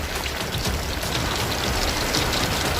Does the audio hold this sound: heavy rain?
yes